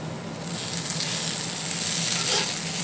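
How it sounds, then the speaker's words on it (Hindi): Chopped onions fry in a hot pan, giving off a loud, continuous, close sizzle with no talking. "अब हम इसमें डालेंगे थोड़ा सा प्याज और प्याज को भी थोड़ा देर भूनेंगे"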